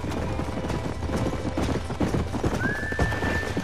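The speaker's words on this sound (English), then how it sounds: "These are fine horses." Horses in Red Dead Redemption clip-clop steadily across the whole stretch, loud and close, with a drawn-out neigh rising near the end over the hoofbeats.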